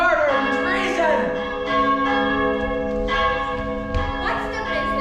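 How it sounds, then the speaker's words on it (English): An alarm bell in a stage production of Macbeth clangs repeatedly with a rich, sustained tolling tone, loud and close, with overlapping rings. "Awake, ring the alarm bell, murder and treason."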